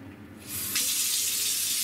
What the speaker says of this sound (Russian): Включаем теплую воду, не сильно горячую.